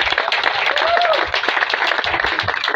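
An audience at a youth campaign rally applauds in a dense, continuous burst of clapping lasting a few seconds, with voices mixed into the crowd noise.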